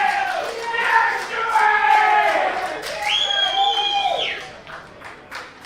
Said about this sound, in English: we're hearing a lot of cheering in the crowd at the moment